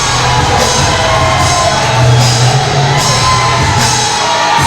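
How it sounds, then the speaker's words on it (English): A wrestling crowd at a Reality of Wrestling match cheers and shouts loudly and steadily from start to end, with whoops swelling in the middle. "Listen to this crowd."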